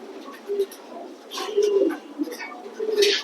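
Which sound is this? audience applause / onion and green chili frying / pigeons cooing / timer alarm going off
pigeons cooing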